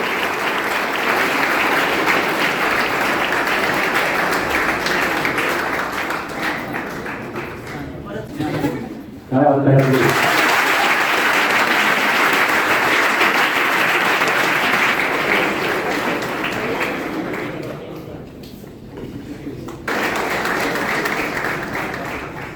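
An audience at a Java project competition applauds a student project group, loud sustained clapping from a crowd that dips briefly near the middle, then surges again and carries on to the end.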